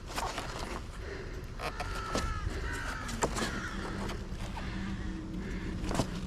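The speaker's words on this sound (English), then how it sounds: "Some noisy birds." Crows caw several times in a noisy outdoor street setting, the harsh calls partly masked by loud broadband background noise and occasional scraping knocks.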